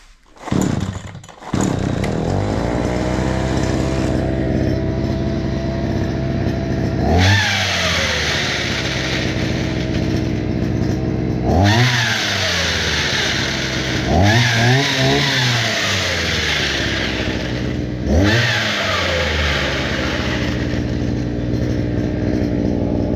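A Chinese petrol brush cutter sputters to life, then settles into a loud buzzing idle broken by four sharp revving bursts that climb and fall back.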